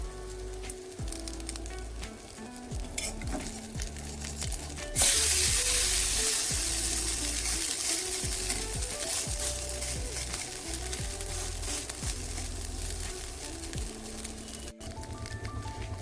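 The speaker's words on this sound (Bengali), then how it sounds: "এরকম এক একটা করে এপিড ওপিড করে বেশ ভালোভাবে ভেজে নেব।" Lentil and cauliflower fritters deep-fry in hot oil with a steady, close sizzle, swelling louder as fresh batter drops in and bubbling on continuously with faint clinks of utensils.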